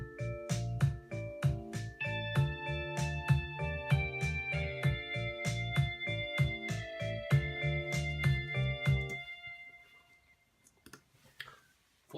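A simulated band arrangement plays back from Logic Pro X, with quiet, evenly spaced plucked and keyed notes forming a rhythmic pattern that stops after about nine seconds, leaving near silence.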